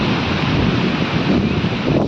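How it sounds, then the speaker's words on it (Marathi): Sea waves roll onto the beach at Dahanu as a dense, steady roar of surf mixed with wind buffeting the microphone, loud and continuous with no voices. "आणि लाटा वगैरे कशा येतात"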